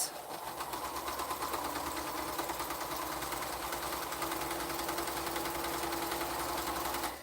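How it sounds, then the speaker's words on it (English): A sewing machine stitches quilt strips and diagonal pieces together in one continuous, even run, its fast mechanical whir and rapid needle rattle steady throughout, fairly quiet and close, with no voices. "I'm just going to sew them together and press."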